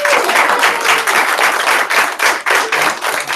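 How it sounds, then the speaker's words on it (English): Audience applause at a sales meeting, steady dense clapping from a crowd lasting throughout, loud and close with no talk over it. "Give them all a big round of applause."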